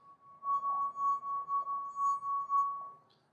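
A finger rubbed around the rim of a wine glass sings a steady, pure ringing tone that swells and pulses in rhythm with each circling pass, then fades away at the end.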